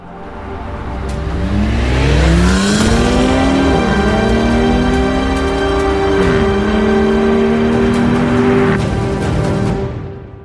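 A Jaguar F-Type P380 accelerates hard, its engine note climbing through gear changes, then settling into a steady, loud cruise before fading away at the end.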